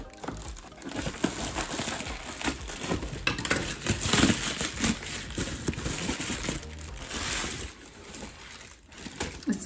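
Plastic packaging from an Etsy-style parcel crinkles and crunches up close as the package is opened, in loud irregular bursts that run almost continuously with a few brief pauses.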